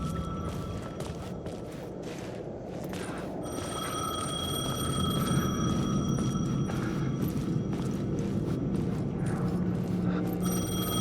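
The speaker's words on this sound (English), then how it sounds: "The payphone was ringing." A payphone rings in the Alan Wake 2 video game, its bright electronic trill repeating in bursts over a low, dark ambient drone with faint footsteps, no voices.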